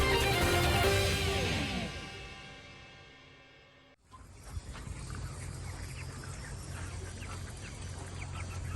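Chickens at a poultry farm in Banjarbaru, Indonesia, clucking amid a constant background hubbub of the flock. A musical jingle fades out before the birds come in.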